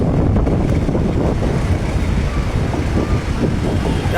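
Strong wind by the sea buffets the microphone in a loud, continuous low roar with gusty rumbling, and no voices are heard over it.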